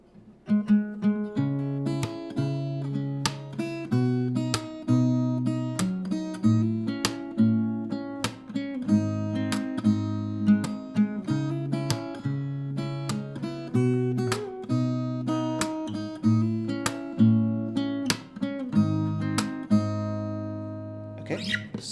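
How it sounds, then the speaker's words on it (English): Plucked fingerstyle guitar plays the main melody of a Hindi song, crisp picked notes over sustained bass tones in a continuous, even rhythm, close and unaccompanied. "so now we come to the main melody part of the song, and sounds like this."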